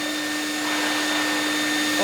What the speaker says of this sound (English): So it's blowing hot air right now onto the floor.